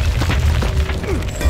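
A frag grenade going off in Gears of War Ultimate Edition, a heavy low boom with crashing debris, amid dense gunfire and combat noise from the game.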